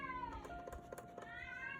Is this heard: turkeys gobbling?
no